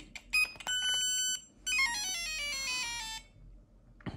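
Electronic beeping and a descending synthetic zap from a 1970s Mattel Armor Battle handheld tank game, a tank-shot effect, tinny and close, with no talking.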